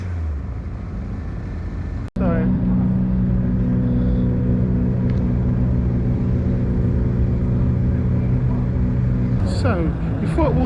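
Rally cars at the Dukeries Rally at Donington Park, a loud continuous engine drone with a sharp break early on and a car passing near the end, with people talking over it.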